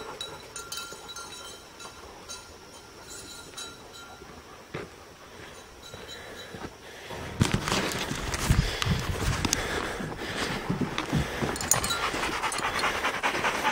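Hunting dogs on a bear-hunting training outing panting steadily and close, with rustling movement and heavier, noisier breathing and shuffling in the second half, no voices.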